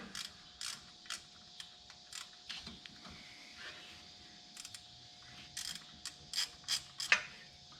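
A 1/2 inch bolt on an alternator bracket of a 1966 Chevrolet Bel Air is loosened with a ratchet, giving sparse, close clicks and clacks that bunch into a quicker run near the end, with no talking.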